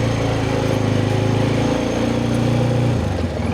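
A Loncin XWolf 300 quad's engine runs close and loud in a continuous, even drone, with a slight drop in tone just before the end.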